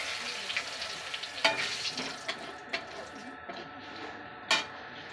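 Cumin seeds and bay leaves sizzle in hot oil in a home kitchen, a steady frying hiss with small crackles and a few sharp spits and pan clinks, moderately quiet.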